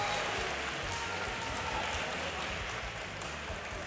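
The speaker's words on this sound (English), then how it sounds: "You can hear the crowd now really turning the support on from Matteo" A crowd at a Yu-Gi-Oh! tournament final applauds continuously, a dense wash of clapping that stays fairly even and somewhat distant throughout.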